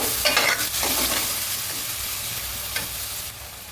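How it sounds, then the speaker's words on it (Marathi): Onions sautéing in a pan for Amritsari chole, a steady frying sizzle with occasional stirring scrapes, close and fairly loud, no voices. "कांदा थोडासा मी परतून घेतले"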